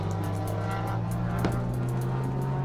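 Race cars at Circuit of the Americas, among them a Porsche Boxster 987, roar steadily nearby, a sustained droning engine note with one car sweeping past around the middle.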